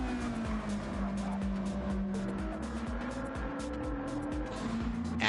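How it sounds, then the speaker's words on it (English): Toyota GT3 race car in Gran Turismo 7 during a Daytona GT3 championship race, its engine droning loud and steady with a sustained tone that shifts in pitch, tire squeal and skidding mixed in and a brief surge at the end. "That sound of that Toyota engine is amazing."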